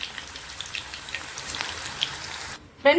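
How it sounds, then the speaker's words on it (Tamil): Mutton kola urundai kofta balls frying in hot oil, a steady soft crackle and sizzle with scattered pops, close and even, ending in a brief sharper clatter. "இந்த கோலா உருண்டையெல்லாம் ஒன்றுனா எடுத்து போட்டுக்கலாம். எடுத்து போட்டுட்டு நல்லா ஃப்ரை பண்ணிக்கலாம் ஃப்ரெண்ட்ஸ்."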